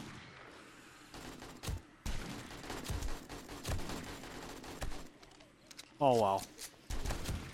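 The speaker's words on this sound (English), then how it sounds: "I'm gonna have to do a lot of repairing down there on the metal. So I'm shooting the hell out of it." Desert Eagle pistol shots ring out during a horde night in the video game 7 Days to Die. Several sharp, loud reports are spaced irregularly under ongoing speech, with a brief tonal chirp near the end.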